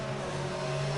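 A Formula 1 race car engine in the video game F1 22 at the Azerbaijan GP, holding a steady, high, droning whine at full straight-line speed during an overtake, brief and alone.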